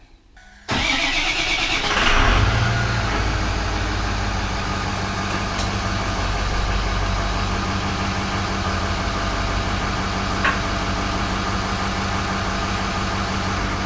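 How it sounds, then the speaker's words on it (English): A 2005 Ford 6.0 Powerstroke diesel truck engine cranks and catches with a loud roar, then settles into a steady, rumbling idle that continues to the end. "I'm going to go start the truck up."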